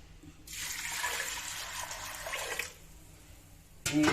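Water pours steadily into a pressure cooker holding soaked toor dal for about two seconds, a hollow rushing splash, then stops; a short clatter follows.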